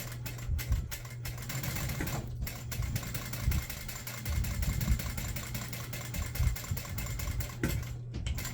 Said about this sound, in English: we're just gonna sew down each of these sides